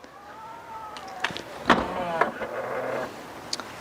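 Electric motor of a Tesla Model Y power trunk whirs as the liftgate closes, a steady mechanical hum with a few clicks and latch thunks, heard close up in a quiet setting.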